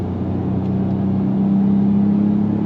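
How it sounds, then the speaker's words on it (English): A 2025 Ford Maverick Lobo compact all-wheel-drive truck accelerates hard on throttle. The engine drone is loud and close, and its pitch climbs steadily through the short burst. "On throttle. Quick acceleration for this compact truck."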